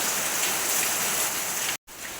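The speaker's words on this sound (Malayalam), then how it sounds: "രാവിലെ നല്ല മഴയാണ്" Heavy rain roars as a steady, dense hiss that breaks off briefly near the end.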